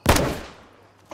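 A single sharp gunshot from the DayZ video game cracks loudly, then its tail decays over a second before another sound starts at the end.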